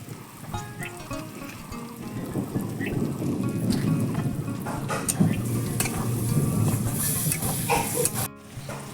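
Homemade raw mango pickle is stirred with mustard seeds and raw mustard oil, giving a close, continuous wet scraping and sloshing with small clicks of spoon against the bowl, and no voices.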